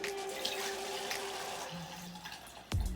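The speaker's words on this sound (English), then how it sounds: "Now we're going to take that rice water solution that we made. I'm just going to pour in" Rice water solution is poured over mustard greens being prepared for fermenting, giving a steady liquid trickle and splash that runs for a few seconds and ends with a soft thump.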